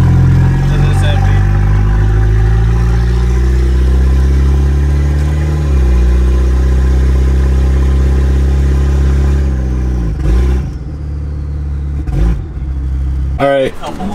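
A turbocharged Volvo wagon engine idles loudly and steadily at close range with a deep, throbbing rumble that dips briefly now and then, while a voice talks over it.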